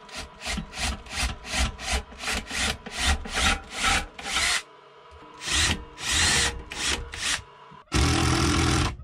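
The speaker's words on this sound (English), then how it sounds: "get a couple boards cut" A saw cuts through wooden boards in rapid rhythmic strokes, loud and close, then pauses briefly before a harsher, continuous cutting burst.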